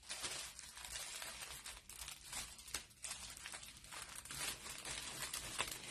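Crinkly plastic packaging around a tea towel being handled and pulled open, with steady crackling and a few sharper tearing bursts throughout, close and fairly quiet, no talking.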